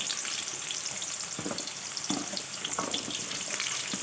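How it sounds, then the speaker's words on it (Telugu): Indian gooseberries (amla) frying in hot oil over a medium flame, a steady close sizzle with occasional stirring scrapes and spatters, no voices. "ఆయిల్ అనేది వేడైన తర్వాత ఈ ఉసిరికాయలని వేసుకొని కొంచెం దూరగా వేయించుకోవాలి"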